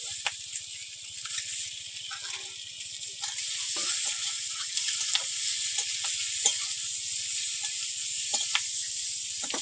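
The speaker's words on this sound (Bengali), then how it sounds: "ডিমগুলো ভেজে নেবো।" Steady bright sizzle of eggs frying in a pan with green chillies, with occasional sharper pops and crackles spread through, no voices.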